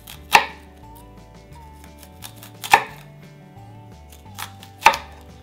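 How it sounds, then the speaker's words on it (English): A knife chops through an onion on a cutting board, three sharp, loud knocks spaced a couple of seconds apart, with a fainter tap between the last two and low background music underneath. "you can go finally this way, down the onion, and you'll be left with, right away, small pieces of onion"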